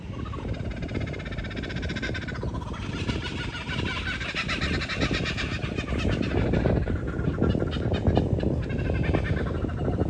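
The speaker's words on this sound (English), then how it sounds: "The laughing kookaburra." A laughing kookaburra calls in the Sydney Botanical Gardens, its loud cackling chorus rising and falling continuously and close overhead with no talk.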